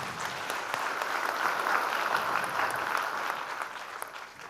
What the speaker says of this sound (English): Can I get a big round of applause?